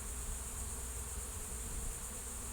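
A swarm of honey bees high in a backyard tree fills the air with a dense, continuous hum, faint and distant but unbroken throughout.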